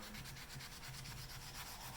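Steady, soft rasping of 400-grit sandpaper rubbed back and forth over a finish coat, continuous and close, with no voices.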